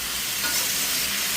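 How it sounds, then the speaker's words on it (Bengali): Ingredients frying in a pan for a prawn and Malabar spinach chorchori with pumpkin, potato and eggplant, a steady close sizzle and hiss that stays even throughout. "এবার এটা দিয়ে আমি ভেজে নেবো।"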